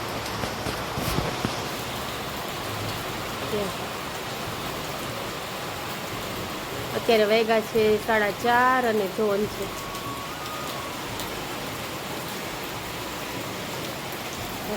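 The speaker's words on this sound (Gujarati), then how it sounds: "જો કેવો વરસાદ છે જૂનાગઢમાં" Steady rain falls in Junagadh, a dense even hiss of drizzle on surfaces. A voice speaks briefly partway through, and there is a short burst of tonal chirping.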